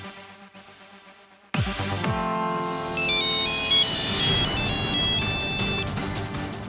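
A mobile phone rings with an incoming video call, its bright electronic melody starting suddenly after a quiet moment and repeating loudly and steadily to the end.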